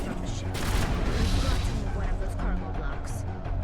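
Dense, continuous gunfire and booming grenade blasts fill a Mass Effect firefight, loud and close, with game speech mixed in.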